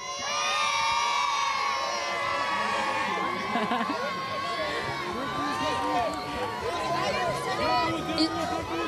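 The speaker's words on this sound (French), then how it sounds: "Depuis tout à l'heure, ça chante, ça crie" Crowd of children shouting, cheering and singing together while waiting for the Olympic flame relay in the Alpes-Maritimes, a loud, dense and continuous outdoor din of high voices with whoops rising above it throughout.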